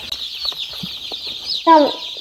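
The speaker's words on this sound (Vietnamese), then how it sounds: "những chú gà con bắt đầu tản ra khắp nơi để vừa đi vừa kêu những tiếng chích chích" Newly hatched chicks on dry rice husk bedding under a warming lamp peep in a continuous high, wavering chorus, with a sharper, louder call cutting in briefly near the end, no talking.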